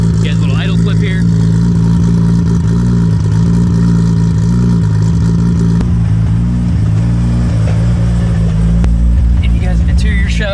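A 1500-horsepower Toyota Supra running 53 psi of boost with an original 6-speed idles with a lumpy, loud, close drone, and the pitch pulses slightly as the throttle is blipped. Voices can be heard over the engine.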